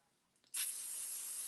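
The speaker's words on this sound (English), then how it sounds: "I am going to add a little bit extra pixie spray to this just because I'm going to use glazes." Pixie spray misted onto a card with a Posh stencil for glaze work, a single steady hissing burst that starts abruptly and continues alone for about a second.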